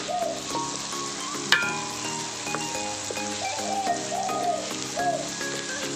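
Garlic sizzles and simmers in melted butter in a pan, a soft continuous crackle with a sharp clink near the start and faint background tones, no talking.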